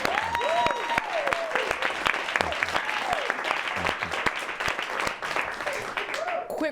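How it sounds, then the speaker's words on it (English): Studio audience at a live late-night talk show breaks into sustained applause and clapping, dense and steady, with a host's voice speaking over it intermittently. "Let's clap for Justin."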